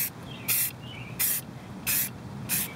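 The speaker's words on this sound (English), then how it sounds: "I'm going to spray about a foot away" A spray paint can applied to brake calipers from about a foot away, four loud, close hissing bursts of roughly a quarter second each, separated by short pauses.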